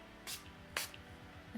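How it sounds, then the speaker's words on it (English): Two short, close hissing bursts of Gerard Cosmetics Slay All Day coconut setting spray being misted, the second slightly stronger, over a low steady background hum. "I'm going to do a little bit of my Gerard Cosmetics Slay All Day setting spray"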